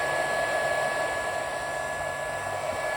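A SeeSii handheld welder runs with a steady, loud, whining drone that has a high tonal edge and a broad hiss. It is constant throughout and close to the listener, with no talking.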